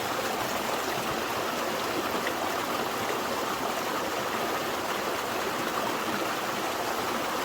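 A small waterfall and stream rush steadily and close by at a gold panning spot, a dense, unbroken wash of water with no voices.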